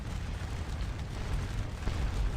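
Continuous deep rumbling of artillery shells exploding in a battle video game, a dense, steady low roar with no distinct separate blasts and no voices.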